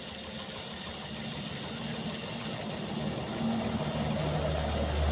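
A homemade electric generator runs close by with a steady mechanical drone and low engine hum that grows slightly louder toward the end. No voices.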